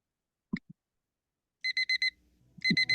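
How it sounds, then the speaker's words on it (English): An electronic alarm clock beeps in quick bursts of four high tones, repeating after a short pause, preceded by a couple of soft clicks and some faint low rustling. "Turn off the alarm."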